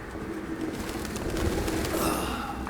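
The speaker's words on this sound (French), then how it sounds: "Il y a quand même masse de pigeons dans cet appartement." Pigeons cooing inside a cluttered apartment in Detroit: Become Human, soft low coos and rustling under a constant noisy background, faint and close-miked game ambience.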